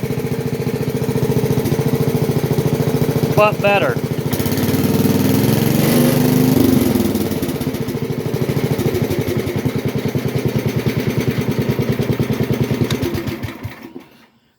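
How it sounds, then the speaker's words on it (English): A 1970 Sears Suburban 12 garden tractor engine runs steadily at close range, chugging and rumbling throughout, with a brief mechanical clunk partway and a short spoken remark. "I have to maneuver the tractor."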